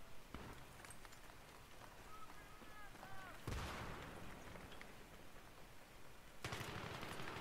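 Gunfire in a Battlefield 3 multiplayer match crackles in bursts across the scene, with sharp impacts near 3.5 and 6.4 seconds over a steady background din.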